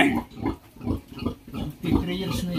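A sow about three years old on a piggery farm grunts repeatedly in a steady rhythm, loud and close, with barn background noise and brief talk from people nearby.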